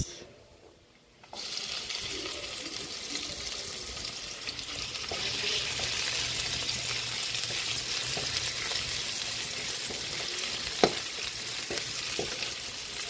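Chopped onions hit a hot pan and start to sizzle loudly while frying for ginisang munggo, a steady close hiss after a short quiet start, with a few clinks of stirring and no talking.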